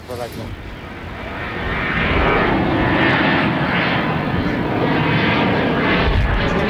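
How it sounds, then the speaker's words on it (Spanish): Boeing 737 jet passing low over a rooftop terrace in the Urbanova district, a broad roaring engine rumble that grows louder and holds steady at close range, with faint voices underneath. "Vamos a medir los decibelios del avión cuando pasa por este tejado."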